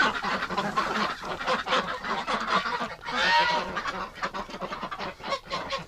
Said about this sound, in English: Poor ducks.